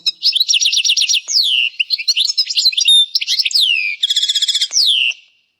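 Close, loud song of a trained goldfinch: rapid twittering phrases, buzzy trills and quick repeated notes in a bright continuous stream against silence.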